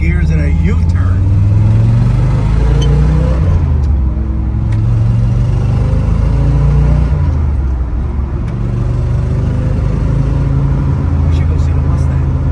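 A 1974 Chevrolet Corvette with a factory four-speed manual transmission revs and pulls through gear changes during a spirited drive and U-turn, producing a steady, loud engine drone with rising and falling pitch. People talk over it throughout.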